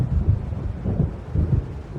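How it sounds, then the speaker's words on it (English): Low rolling rumble of thunder from an approaching storm over the lake in Alan Wake Remastered, swelling and fading in a few deep waves with a faint hiss of rain or wind beneath, no voices. "It seems there's a storm coming."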